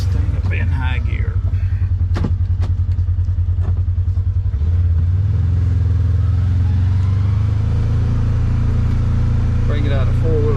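A four-wheel-drive vehicle's engine drones steadily up close, its low rumble shifting pitch partway through as it revs into high gear, then holding a smoother, continuous hum.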